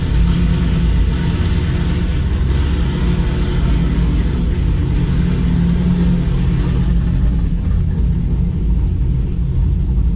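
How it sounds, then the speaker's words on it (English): A 2015 Chevy SS Camaro V8 idling steadily after a spark plug replacement, a constant low rumble close to the microphone with no revving or talk over the ten seconds. "It definitely feels like it's idling a lot better"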